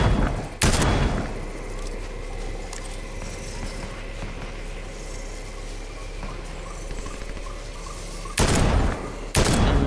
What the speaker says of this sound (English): there's shooting going on to my left